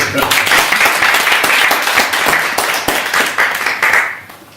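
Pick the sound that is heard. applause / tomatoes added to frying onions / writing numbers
applause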